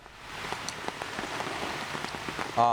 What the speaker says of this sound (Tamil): சென்னையில் இன்று அதிகாலை முதலே தொடர் மழையானது பெய்து வருகிறது